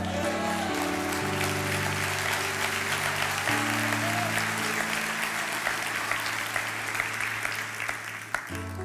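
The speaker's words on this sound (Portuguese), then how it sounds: "Eu não entendi muito bem as palmas" Sustained applause from a church congregation, steady and full for several seconds before cutting off, with faint tonal music underneath.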